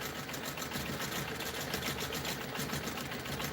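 Home sewing machine stitching a free-motion pebble background fill on a quilt, with a fast, even needle chatter running steadily and fairly quiet throughout, no voices.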